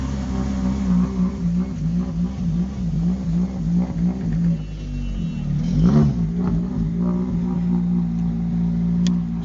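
A Honda rally car engine revs at the Rallye Monte Carlo, throbbing in a rapid wavering rhythm, then rising in a sharp surge of revs before settling into a steady loud drone, close by with crowd ambience.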